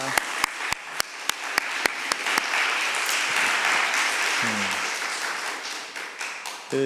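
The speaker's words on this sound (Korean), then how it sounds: "우리 다시 한번 큰 박수 해주시면 감사하겠습니다" A few sharp individual claps open, spaced about evenly, then dissolve into broad sustained applause from a church congregation at a Wednesday service, with a short voice near the end.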